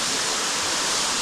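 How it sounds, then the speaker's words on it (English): Water pours down inside a cave, a loud, continuous roaring rush close by with no voices over it. "I'm gonna try to block some of this water from falling directly on you."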